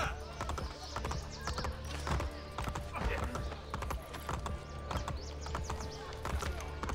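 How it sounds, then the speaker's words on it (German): Horse hooves in Assassin's Creed: Brotherhood clip-clop in a steady trotting rhythm, fairly close, with a few faint whinnies and scattered game sounds around them. "Pferd."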